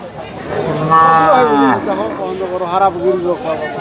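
A loud, close cow moos in long drawn-out calls at an Eid cattle market, followed by another lower moo, with faint crowd murmur behind.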